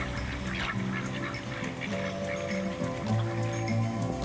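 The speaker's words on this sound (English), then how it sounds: "Potter Flats, a mere 10 miles from Anchorage, is a wonderful place to view wildfowl." Wildfowl call at Potter Flats near Anchorage, Alaska, a mix of honking and quacking voices layered over one another in a steady outdoor chorus.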